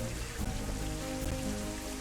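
Steady rain in the Planet Zoo video game, a dense even hiss of falling drops that holds unbroken and fairly soft throughout, with no voices.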